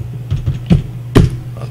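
Keys on a computer keyboard are pressed to enter a password on a Mac running in a virtual machine: four or five separate close taps with uneven gaps in a quiet room.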